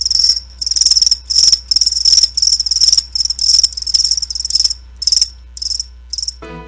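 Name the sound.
crickets chirping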